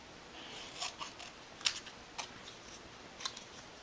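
Scissors snip through paper to cut off small heart-shaped pieces, a few faint, quick crisp cuts spaced irregularly against a quiet room.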